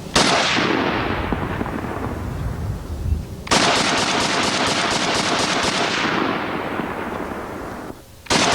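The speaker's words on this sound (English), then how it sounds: "This is the great 1919 Browning converted to semi-automatic from the good people at NWI." A Browning 1919 machine gun converted to semi-automatic fires long runs of rapid, loud, closely spaced shots with echoing tails, broken by a short pause between strings. No voices are heard.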